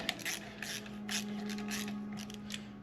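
A ratchet tightens fasteners on a Subaru engine block drain adapter, giving a faint series of quick clicking pawl bursts over a low steady hum.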